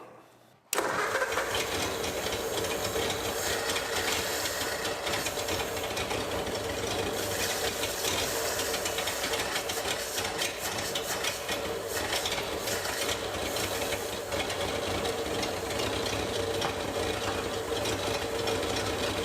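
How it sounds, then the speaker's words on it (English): A 1938 Ford flathead barn-find engine, long abandoned and missing on cylinders, bursts into life and idles with a loud, steady, slightly uneven chugging that continues without pause. "Turn that idle up just a little bit."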